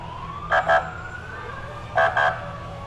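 Fire department emergency vehicles at a county fair parade sound two pairs of short, bright horn-like siren blasts over a low rumbling background, with a faint rising wail in between.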